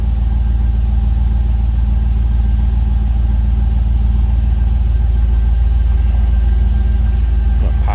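A 2006 Pontiac GTO with a 6-liter LS V8 idles steadily from behind the car, a loud, deep, even rumble holding constant throughout with no revving.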